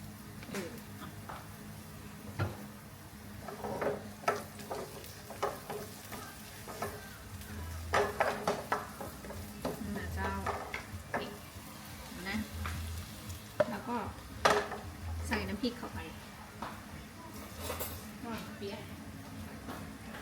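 Fish chili paste is stir-fried in a little oil, giving a quiet, continuous sizzle with intermittent scraping and stirring clicks from a utensil against the pan, while someone talks throughout.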